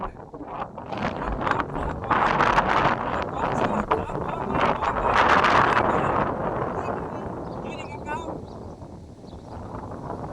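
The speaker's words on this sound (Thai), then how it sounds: "ลมกำลังมาพี่น้อง" Strong outdoor wind roaring and buffeting the microphone while a large two-compartment Thai chula kite is test-flown, a steady gusty rush lasting throughout, with a voice speaking faintly underneath.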